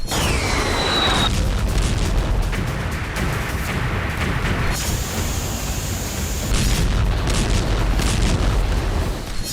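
Continuous loud rumbling booms and blasts fill the whole stretch, dense and chaotic like a barrage of explosions, with no talking.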